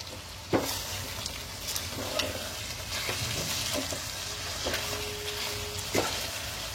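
Spices with cumin powder sauté in a pan with a continuous moderate sizzle, punctuated by occasional clinks and scrapes of a stirring spoon.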